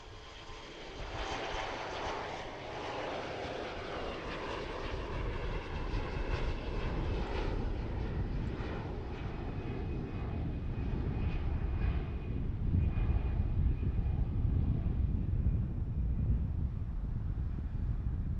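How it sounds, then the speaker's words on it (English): Delta Connection airliner on its takeoff roll at a busy cargo airport, a steady, loud engine roar that builds over time, mixed with wind noise on the microphone. "It's like the Delta Connection flight's on the roll."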